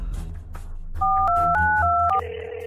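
Telephone keypad dialing tones, a quick run of about five clean beeps stepping between pitches, then a longer lower tone, loud and close over faint room noise.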